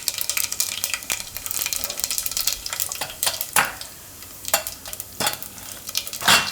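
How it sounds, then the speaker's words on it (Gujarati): Mustard seeds and cumin hit hot oil in a pan while cooking Gujarati onion-potato curry, giving a crackling sizzle broken by sharp pops and spatters and the scrape of a stirring spoon, close and fairly loud. "તેલ આપણું ગરમ થઈ ગયું છે. તેમાં આપણે નાખશું થોડીક રાઈ"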